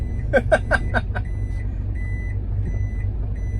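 A KM 505 truck backing up through a narrow, sharply bending lane sounds five quick, loud reversing beeps over a steady low engine rumble, then the engine idles on alone.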